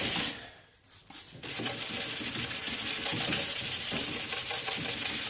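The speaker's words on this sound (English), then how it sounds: "this sanding pad that I have here is for a mouse sander" Hand sanding of a cloudy car headlight lens using a mouse sander pad, a steady close rasping rub that starts with a few short strokes, pauses briefly, then runs in a continuous rhythmic scrubbing.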